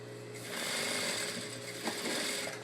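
A sewing machine backstitches through several layers of fabric where a facing ends on a headpiece, giving a steady, continuous mechanical whir at close range that runs for most of the moment with no talking.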